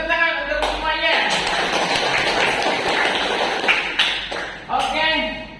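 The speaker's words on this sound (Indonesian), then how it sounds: "Oke, tepuk tangan untuk semuanya." A class of fifth-grade children applaud together in a classroom, a dense, sustained burst of clapping lasting several seconds, with voices chattering before and after it.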